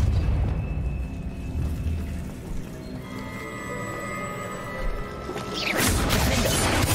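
A Depulso spell cast in Hogwarts Legacy, a rumbling magical blast with crashing impacts and a rising whoosh near the end, loud and close, no talking.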